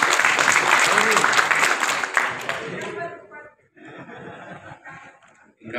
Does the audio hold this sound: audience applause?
yes